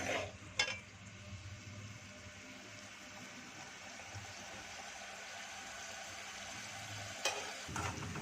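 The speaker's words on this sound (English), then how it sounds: "So we are going to stir fry the ginger garlic paste till it changes a little bit of color" Ginger garlic paste sizzling and being stirred in a pan over a flame, a steady soft crackling hiss with a couple of brief clinks of the utensil, no talking.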